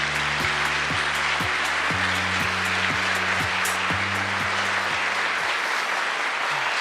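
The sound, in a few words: audience applause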